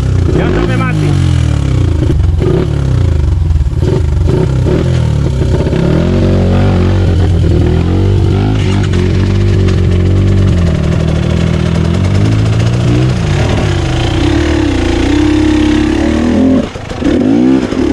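A trail motorcycle's engine runs loud and close for the whole stretch, idling and revving through half-clutch throttle blips on an off-road trabas ride, while people talk nearby.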